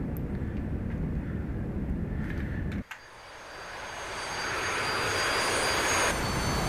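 Jet engine roar from an AJS37 Viggen in the DCS flight simulator during landing with thrust reversers deployed: steady loud rumble, a sudden dip near the middle, then a hissing roar that swells and holds.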